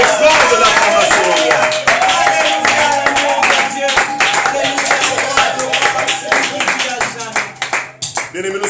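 A church congregation claps together as an offering of acclamation during a worship service, loud and continuous, with voices singing or calling out over the clapping throughout.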